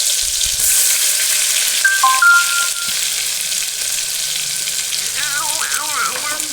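Cumin seeds and ginger-garlic paste sizzle in hot oil inside a pressure cooker, a steady broadband fry crackling throughout with a brief low thump near the start and some faint tonal background sounds later on.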